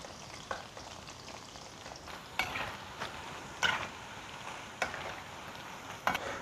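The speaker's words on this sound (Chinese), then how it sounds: "继续把剩下的炸完" Pork tenderloin pieces deep-frying in a wok of hot oil give a steady soft bubbling sizzle, with a few sharper crackles and spatters breaking through at intervals; no voices.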